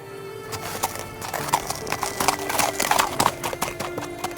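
A horse's hooves clip-clop steadily on a road, close and rhythmic, with a brief whinny-like sound and a voice speaking over the hoofbeats.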